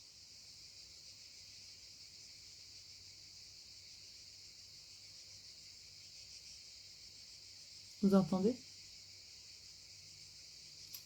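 Cicadas sing in a steady high droning chorus at a summer campsite, one insect louder than the rest, with a brief nearby burst and a short spoken question.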